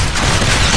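Heavy, very large caliber gunfire from the video game Evolve, a dense continuous barrage of loud booming shots with a rumbling low end filling the whole moment, no pauses between bursts.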